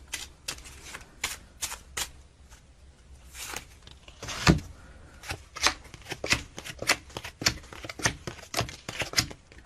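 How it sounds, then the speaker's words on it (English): A deck of cards is shuffled by hand in a quiet room, a run of crisp riffling bursts and snaps in quick irregular rhythm, close and moderately soft, with one louder slap near the middle. "Would you like to take these and shuffle them thoroughly?"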